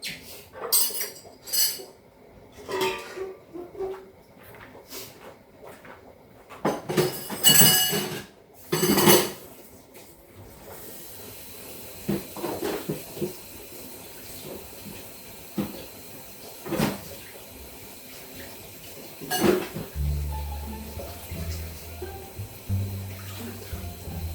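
Dishes and cutlery clatter at a sink in irregular bursts, with faint water running steadily between the knocks and louder splashes near the end.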